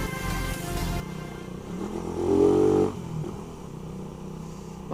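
Motorcycle engine during power shifting, a revving drone that drops abruptly, surges louder for a moment, then cuts back to a lower idle-like hum, close and without speech.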